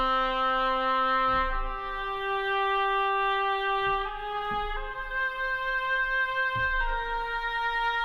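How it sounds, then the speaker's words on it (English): A solo oboe with a nasal reed tone plays sustained notes one after another, stepping through a short melodic line with soft attacks. "So oboe is a reed instrument."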